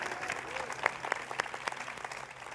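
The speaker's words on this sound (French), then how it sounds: "Aplauda conmigo" A congregation at a church service claps together in a lively burst of applause, steady hand claps filling the room while a voice speaks over it.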